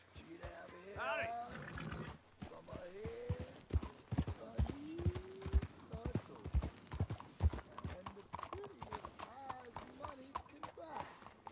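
Horse hooves clip-clopping in the video game Red Dead Redemption II: a run of close, irregular hoofbeats with snorting and animal sounds, mixed with voices speaking over them.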